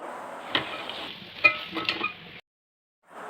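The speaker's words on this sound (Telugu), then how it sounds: "ఇప్పుడు ఇందులో మనము నానబెట్టి పక్కన పెట్టుకున్నటువంటి బొరుగులను ఇందులో వేసి బాగా కలుపుకోవాలండి" Soaked puffed rice being stirred into a softened tomato mixture in a pan for a Rayalaseema-style uggani breakfast, with scraping strokes and a steady sizzle for a couple of seconds before it cuts off, then resumes briefly.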